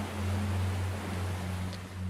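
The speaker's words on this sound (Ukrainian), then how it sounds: "Ви чуєте шелест хвиль" Steady low rumble of surf with a continuous wash of sea noise, a constant background roar without distinct breaking waves.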